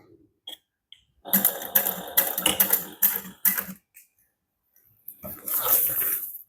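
A sewing machine back stitches a few stitches through vinyl on a notepad holder, giving two short loud bursts of rapid mechanical whirring and clatter separated by a brief pause, with faint clicks before.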